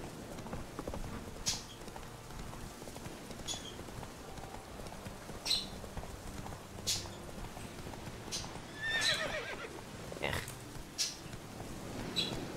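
Horse in The Witcher 3 game clip-clopping steadily with sharp, evenly spaced hoof strikes, occasional whinnies rising over the rhythm, under a faint background.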